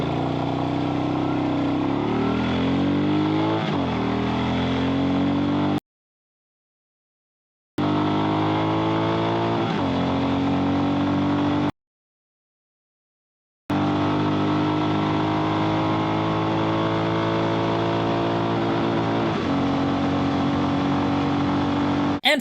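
A Royal Enfield Meteor 350 motorcycle with a 168-pound rider accelerating hard through the gears, the engine note rising and dropping at each shift across three runs separated by silent gaps.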